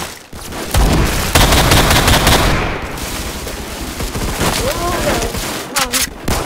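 Rapid bursts of automatic gunfire and single shots from a Roblox Phantom Forces shooter match, loud and crackling, with a player speaking briefly over the shooting.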